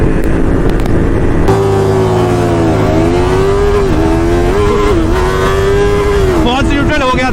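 A Yamaha R3 and a Royal Enfield Interceptor 650 motorcycle rev and pull away on the road, their loud, close engine note rising and falling continuously under rushing wind.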